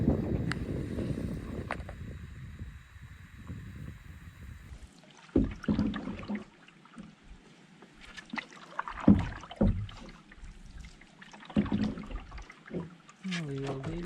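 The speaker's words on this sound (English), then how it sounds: "It's very windy on the water, so I figured why not just paddle in the calm creek instead." Canoe paddling in a calm creek in Algonquin Park: wind buffets the microphone at first, then soft irregular paddle dips and water splashes nearby, with a person speaking over parts of it.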